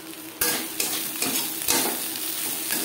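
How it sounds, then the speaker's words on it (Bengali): Green banana pieces sizzle in a pan while being stirred with fried cumin and coriander powder for a light fish curry, a continuous fry hiss broken by repeated scraping strokes of the spoon. "কাঁচকলার সাথে জিরে ও ধনের গুঁড়ো বেশ ভালো করে মিক্স করে দেব"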